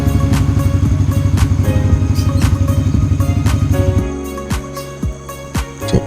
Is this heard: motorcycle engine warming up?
yes